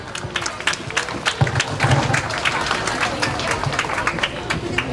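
Crowd applause greets the municipal mayor of Zacatecoluca at a civic ceremony, scattered clapping mixed with murmuring voices and crowd hubbub, moderately loud and uneven throughout.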